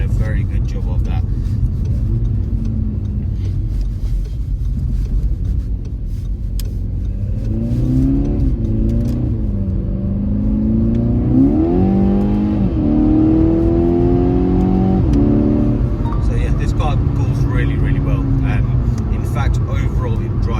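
A 2015 SEAT Ibiza Cupra 1.4L TSI DSG drives in a video game, its engine droning steadily and revving up through gear changes in the middle, with someone talking over it throughout.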